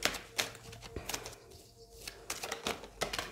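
A tarot card deck being shuffled by hand, producing a series of quick, close riffling and tapping bursts in an irregular rhythm, fairly soft with short pauses between them.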